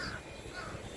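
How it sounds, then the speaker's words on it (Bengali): A crow caws outdoors on a windy day, a brief, fairly faint call over steady wind noise. "কা কা কা কাক ডাকতেছে"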